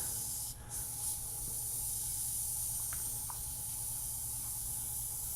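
A Harder & Steenbeck Ultra airbrush with a 0.2 mm nozzle sprays in a steady, soft, close hiss that holds almost unbroken throughout, dipping briefly once, with faint small clicks in the background.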